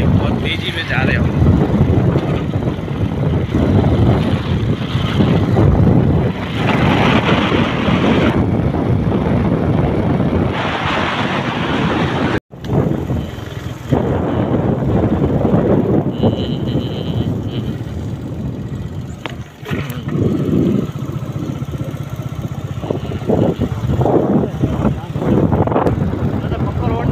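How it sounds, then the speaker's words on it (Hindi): Motorcycle riding along a rural village road: a loud, steady engine drone mixed with heavy wind rush across the microphone, continuous apart from one brief dropout midway, with no talk. "मोटरसाइकिल पे हम रवाना हो चुके हैं"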